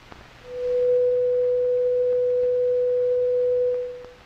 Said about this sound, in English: This simple 500 cycle tone can be represented mathematically by a sine wave.